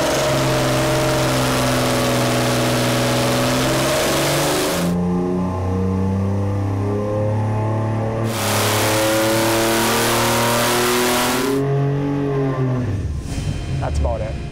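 A boosted 4.3L V6 revs hard on a dyno toward 5,500 rpm, a loud, close engine roar climbing in pitch through repeated pulls and drops, with voices talking in between.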